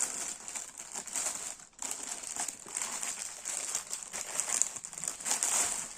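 A plastic sachet of embroidery thread for cross stitch is torn and opened, giving steady crinkling and crackling of thin plastic, close and fairly loud, with brief pauses and no talking.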